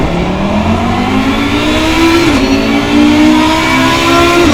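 An Audi R8 GT3 race car in a racing video game, driven around Kyalami, accelerates hard with a loud, steady engine note rising through the revs, heard from onboard with no talking.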